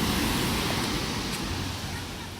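Rough surf breaking at a Quezon beach, a steady loud wash of broadband noise with some wind rumble, continuous throughout with no distinct individual wave crashes.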